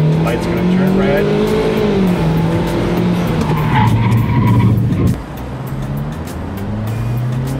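A Ford car brakes hard with ABS during a driving skills course, tires squealing and skidding loudly for several seconds before the noise drops off, with a voice talking over it.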